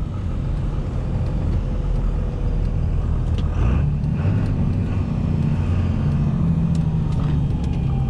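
A 1999 Dodge truck drives along with a steady, close engine rumble and road drone, a few faint clunks suggesting gear changes, and no talking.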